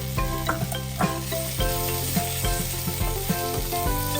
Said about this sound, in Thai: ให้เพื่อนๆผัดจนใบกระเพรายุบเลยนะคะ